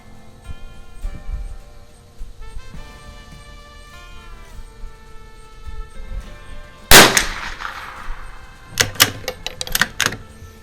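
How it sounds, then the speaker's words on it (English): Lakefield 92 rifle shots ringing off small steel targets: a quiet stretch of faint tonal background, then one sharp loud crack followed later by a quick cluster of several more close reports. "Shooting at little steel targets is a blast though"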